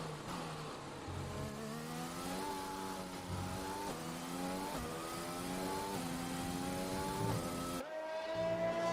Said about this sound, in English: this is Bottas just driving